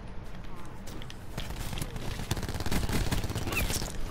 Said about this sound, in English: After the gunshots